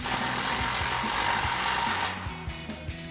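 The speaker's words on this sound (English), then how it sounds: "Now we can snug down our clamp, again with our 16mm socket." A socket wrench tightens an exhaust clamp on the slip joint of a Toyota Tundra dual exhaust system, giving a close, loud, continuous mechanical whir with rapid ratcheting pulses that thins out near the end.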